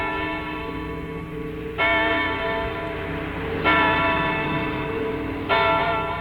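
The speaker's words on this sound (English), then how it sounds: "the clock tower chimes announce another midnight" Clock tower bell chimes at midnight: three loud, resonant strikes spaced about two seconds apart, each ringing on with a sustained, overlapping hum, heard alone without talk.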